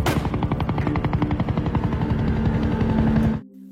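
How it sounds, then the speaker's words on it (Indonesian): A helicopter arrives in an action film, its rotor thumping in a loud, rapid, even beat that lasts about three seconds before cutting off sharply. "Tidak lama setelah kepergian Sandy dan Evan, sebuah helikopter yang akan membawa Terry dan Mike tiba."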